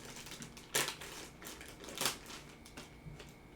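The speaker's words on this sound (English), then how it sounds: "So I'm going to tear it off." A Smile Doctors aligner pack is torn off in two sharp, crisp rips of crinkly packaging, separated by softer rustling and handling noise, close and fairly quiet.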